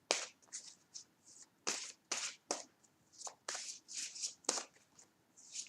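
Tarot cards being shuffled in quick bursts, papery riffles and slaps close up, fairly quiet, with short pauses between handfuls.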